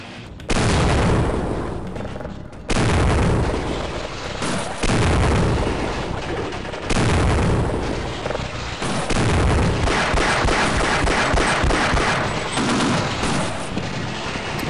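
Tank cannon fire and explosions in Half-Life, a series of heavy booming blasts with crackling gunfire between them, loud and dense throughout, with no talking.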